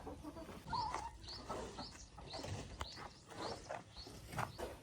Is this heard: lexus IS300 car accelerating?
no